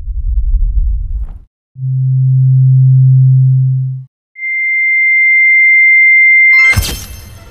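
A steady high-pitched pure tone simulating tinnitus ear ringing rings alone for a few seconds, following a low rumble and a deep hum, then a burst of noise at the end.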